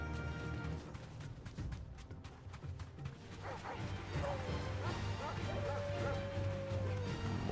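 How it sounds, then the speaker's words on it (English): Dogs bark in the video game Final Fantasy XVI, a few short barks and yips rising over a dense game soundscape of music and ambience, with a person talking at times. "More dogs."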